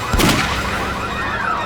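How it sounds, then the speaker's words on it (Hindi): A single sharp gunshot cracks near the start, followed by a ringing, fading tail. "किसने गोली चलाई?"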